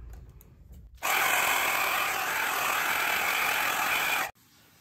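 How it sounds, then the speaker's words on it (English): A steady, loud broadband whoosh of a hairdryer, used to dry a wine painting, switches on abruptly, runs evenly for about three seconds, then cuts off; no talking. "We're going to use the hairdryer for that"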